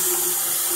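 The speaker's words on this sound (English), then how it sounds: "once I rinse out all the soap and our water is running clear" A kitchen tap runs steadily while dyed yarn is rinsed clear of soap, a loud, continuous rushing hiss of water with a faint tonal hum, alone and unbroken.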